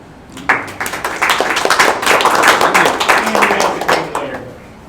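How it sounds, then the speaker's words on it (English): A meetup audience breaks into a round of applause, dense overlapping clapping that swells quickly, holds steady for several seconds, then tapers off near the end. "they should get another round of applause because this has been a really good group"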